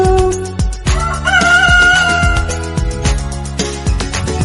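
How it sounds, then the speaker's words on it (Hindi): A rooster crows in a Hindi children's rhyme over a bouncy musical backing with steady percussive beats, the call standing out clearly in the middle of the tune. "मुझे मुर्गे ने जगाया, बोला कुकड़ू कू कू।"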